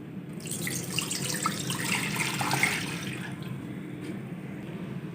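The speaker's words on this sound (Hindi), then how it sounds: "पानी डालेंगे।" Water pours into a wok on a stove before potatoes are steamed for Korean cheese pancakes, a soft splashing fill that rises and then tapers off, heard alone and fairly quiet.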